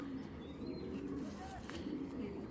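Giribaz pigeon, a cock bird, cooing softly in a continuous low murmur alongside other bird calls, with faint voices nearby.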